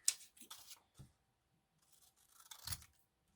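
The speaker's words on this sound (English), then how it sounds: "So I'm going to get all of these cut out." Scissors cut out paper pieces for a junk journal collage page, giving a few quiet, close snips and slides with pauses between them and no talking.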